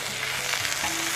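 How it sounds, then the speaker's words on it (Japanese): Chan-chan yaki, the Hokkaido dish of salmon and vegetables with miso and butter, sizzling and crackling steadily in a hot pan, close and loud with no voices. "あ、ジュージューいってるよ。"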